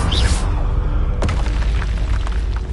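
A Confringo fire spell explodes in Hogwarts Legacy, a deep rumbling boom with a sharp crack partway through, followed by a sustained low roar and debris noise, loud and close.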